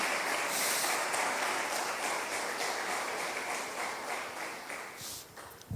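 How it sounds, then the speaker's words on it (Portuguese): Church congregation at a Portuguese-language evangelical service clapping loudly together, a full, continuous roar of applause that tapers slightly near the end. "vamos aplaudir bem forte a palavra do Senhor"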